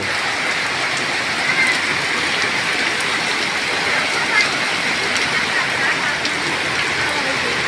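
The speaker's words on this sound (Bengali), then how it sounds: "আসলে প্রচুর পরিমাণে বৃষ্টি দেখতে পাচ্ছেন সব দূরে যাচ্ছে এই রাস্তা তলিয়ে গেল" A torrential downpour floods a road, making a dense, steady hiss of rain on wet surfaces with small swells in loudness and no speech.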